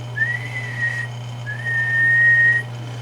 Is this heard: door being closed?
no